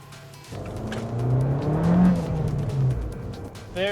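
An Abarth 595 Competizione with a manual gearbox accelerates close by, its engine note rising and falling in a short surge with a faint turbo whistle on top and crackle as the revs drop.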